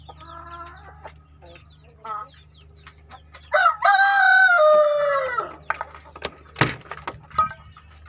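Chickens in a breeding coop, with scattered clucks and chirps, a loud rooster crow in the middle and sharp calls after it, close by over a steady low hum with no talk.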